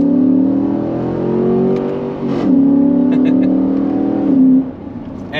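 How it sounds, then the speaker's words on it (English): A V8 truck accelerates hard in sport mode with paddle shifts, its engine drone climbing through the gears, dropping abruptly at each quick shift with a crackling exhaust pop, loud and close. "it shifts so fast with the paddles that the exhaust farts"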